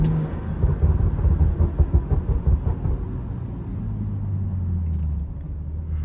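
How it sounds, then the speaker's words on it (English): A BMW 335i tuned to Stage 2+ is driven along a road: a loud, close, deep exhaust rumble pulses and burbles as the driver lifts off the throttle, then settles into a steady low drone. "That overrun brop, that brop sound, like when you take your foot off the gas"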